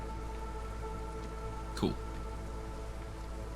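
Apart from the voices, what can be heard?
rain in the video game Against the Storm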